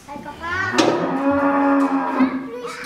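A cow moos in one long, loud, drawn-out call, close and alone.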